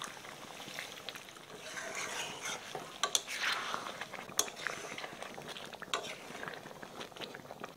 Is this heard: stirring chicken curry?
yes